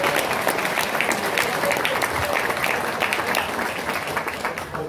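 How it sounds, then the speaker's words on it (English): Convention panel audience bursts into sustained, loud applause, a dense wash of clapping from a full room that holds steady for several seconds with faint voices underneath. "Round of applause for that."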